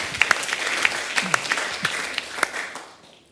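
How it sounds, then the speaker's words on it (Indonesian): Congregation applause at a church worship night, a dense wash of many hands clapping with a few sharper claps standing out, sustained and fairly loud before tapering off at the end. "Tepuk tangan buat dia."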